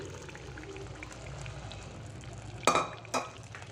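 Boiled rajma kidney beans tipped into a pan of frying masala and stirred, a steady close sizzle with two sharp spoon-and-pan clatters near the end.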